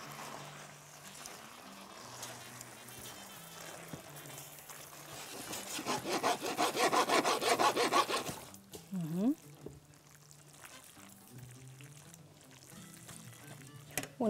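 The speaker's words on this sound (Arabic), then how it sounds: "ونقلب بقى الباستا" Linguine with vegetables is tossed and stirred in a pan with sauce, giving a soft rubbing, sizzling swish that builds for a few seconds then fades, with someone talking quietly around it.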